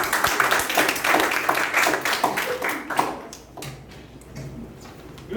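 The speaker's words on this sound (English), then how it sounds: "Give a round of applause" A round of applause at a youth leadership meeting, brisk group clapping that is loud at first, then fades after about three seconds into a few scattered claps.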